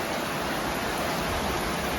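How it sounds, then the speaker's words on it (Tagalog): Heavy rain pours down in a dense, steady hiss, loud and unbroken throughout. "Sobrang lakas ng ulan, oh."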